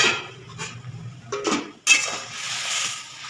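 A spoon clinks and scrapes against a metal pot while radish and coriander dal with turmeric, salt and sugar is stirred, a few sharp knocks and then steady scraping, close and with no talk.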